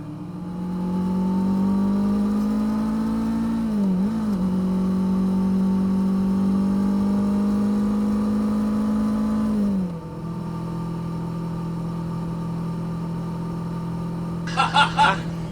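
A classic 1970s–80s Porsche engine drones loudly at a steady pitch, dips briefly mid-pass, then drops off as the car moves away, leaving a lower hum; a few sharp clicks sound near the end.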